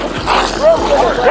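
A dog gives short yips and whimpering barks close by during a Christmas Day river flood, mixed in with people shouting and talking over it.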